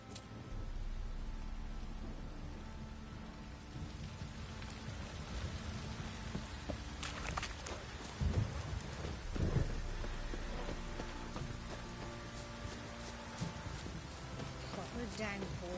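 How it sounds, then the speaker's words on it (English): Steady heavy rain pours throughout in The Witcher 3 video game, with a low rumble of thunder rolling midway; the downpour stays constant and close. "Proper downpour this is."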